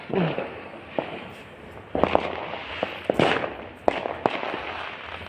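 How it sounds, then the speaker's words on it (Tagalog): Guy Fawkes Day fireworks in New Zealand pop and crackle at a distance, a string of sharp bursts spread irregularly over several seconds against a low background rumble. "Naririnig nyo yung mga fireworks."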